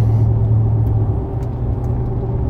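A truck engine idles steadily from inside the cab, a loud, even low rumble with a faint hum that continues without change.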